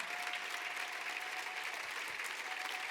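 A church congregation applauds the Lord in steady, dense clapping that holds at an even level throughout, with no voices standing out above it.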